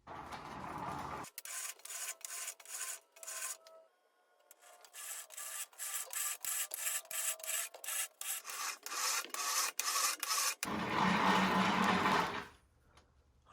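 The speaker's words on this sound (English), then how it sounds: "I'm going to have to spool out some of this rope" Rope spools out from a Warn Zeon winch in repeated mechanical bursts, a rhythmic whirring rasp broken by short pauses, close and fairly loud with no talking.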